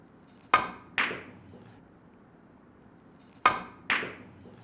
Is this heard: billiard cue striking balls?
yes